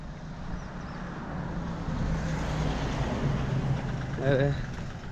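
Vehicles passing along a roadside, a steady rumble of traffic with engines swelling and fading nearby, under a voice talking.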